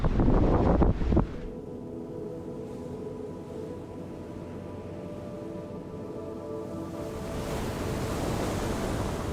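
Wind and sea sounds while sailing offshore from Norway toward Shetland, a steady broad hiss of wind and rushing water with a low hull hum, after a brief loud buffet at the start, rising slightly toward the end.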